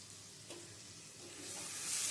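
Ginger-garlic paste sizzles and fries in a pan for Kashmiri chicken, a soft, steady hiss with a brief stirring scrape partway through, swelling louder toward the end, with no talking.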